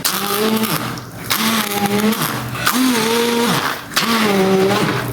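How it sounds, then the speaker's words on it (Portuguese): A food processor whirs loudly in repeated bursts blending soaked lentils, its pitch rising and dropping with each pulse over about five seconds. "a gente poderia fazer no liquidificador, mas eu vou fazer no mix"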